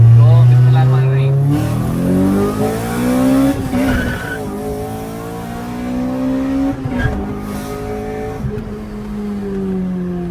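A Honda Civic X races a tuned Mercedes C63 AMG from a standing start, its engine revving up and down through gear changes with rising whine and tire noise, loud and close, while people talk over it.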